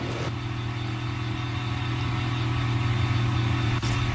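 Denny Hamlin's Toyota NASCAR race car, damaged after wall contact with a flat right front tire, rolls toward pit road at the Bass Pro Shops NRA Night Race; a steady mid-pitched engine drone and low rumble hold throughout, with no voices.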